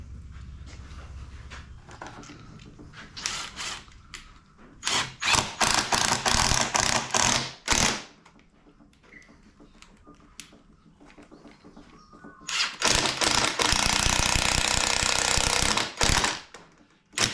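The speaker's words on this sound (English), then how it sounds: "Going to use the driver now with a special bit, and we'll put these 4 screws in each end." A power driver with a special bit sends screws into a wooden rack that holds four bikes. It gives loud, buzzing bursts of several seconds each, with quieter pauses between screws, and no voices.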